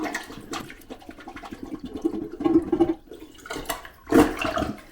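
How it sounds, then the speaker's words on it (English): Plunger working in a toilet bowl, pushing water out of the bowl and P-trap during a toilet replacement: repeated gurgling, sloshing surges of water, close and fairly loud, with a stronger burst near the end. "I'm going to use a plunger to basically force air into the P-trap"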